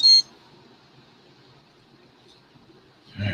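A quadcopter flight controller gives a short, bright electronic beep at the start, then near silence, then a low rustle of handling at the end.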